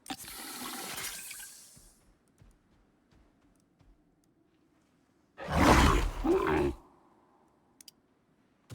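A brief burst of rushing water roars in the Icarus survival game, loud and close for about a second and a half, after fading clicks and scrapes, then quiet ambience.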